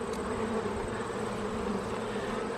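Honey bees swarm around an open beehive being inspected, making a continuous, dense buzzing drone that stays steady and fairly soft throughout with no talking.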